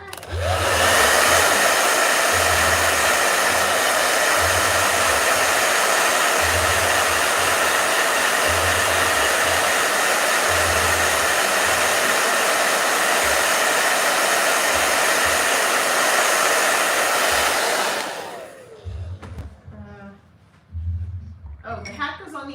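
A loud blow dryer runs steadily for about eighteen seconds, then shuts off and people talk nearby.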